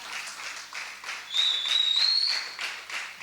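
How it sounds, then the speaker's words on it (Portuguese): A church congregation claps together in a soft, rhythmic run of applause, with a short high whistle rising above it midway. "Queria que a igreja aplaudisse pela vida dele."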